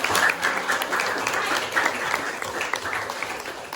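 An audience bursts into steady applause, a dense, close wash of many hands clapping that keeps going with only slight swells throughout.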